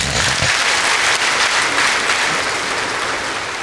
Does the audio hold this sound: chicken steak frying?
no